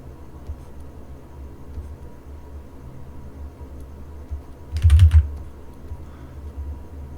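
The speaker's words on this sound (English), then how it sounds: "Hope you don't mind the keyboard noises." Faint keyboard tapping under a quiet background hiss, with a brief louder cluster of clicks partway through.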